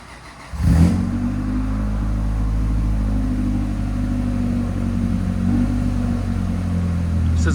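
A 1999 Honda Civic engine fitted with headers and a Netami resonator starts up and holds a steady, loud, droning rev with a deep low-end rumble, running continuously without talk.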